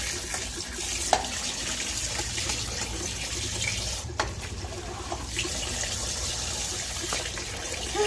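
Water splashing and pouring steadily in a baby's bath tub, with small sloshes and drips throughout, close and continuous with no talk over it.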